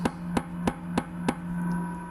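A hammer strikes a part of a Wallenstein BXM33 chipper shredder five times in an even rhythm, each blow a sharp metallic knock over a steady low engine hum, then the blows stop.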